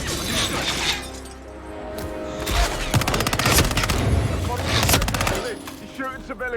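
Gunfire in Hitman 3, rapid automatic bursts with shattering glass and crashes, loud and close, mixed with brief voices.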